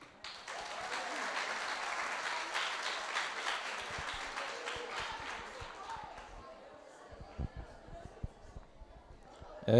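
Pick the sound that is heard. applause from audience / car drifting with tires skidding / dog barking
applause from audience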